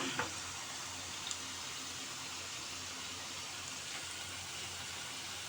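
Continuous crackling sizzle of potatoes frying in hot oil in a pan, steady and close, with no talking.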